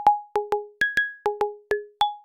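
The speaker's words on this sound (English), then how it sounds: "we're going to start with some wooden block sounds because they are really easy to make" Synthesized wooden block hits from a Nord Drum 3P, nine short dry pitched clicks in a quick uneven rhythm, alternating between a few tones, close and clear with no voices.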